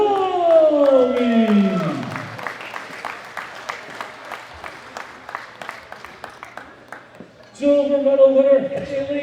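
Scattered applause from an arena audience at a world classic powerlifting championship medal ceremony, light rhythmic claps following a descending tone, then a chime-like musical swell near the end, with an announcer's voice briefly.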